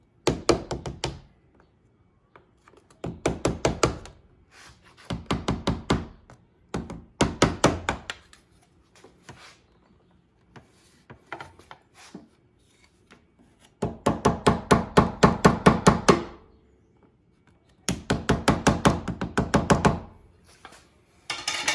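Light repeated tapping to loosen the roof edge molding on a BMW E36 coupe, heard as clustered bursts of quick, close knocks separated by short pauses, with no talking.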